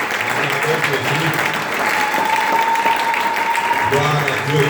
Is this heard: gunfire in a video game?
no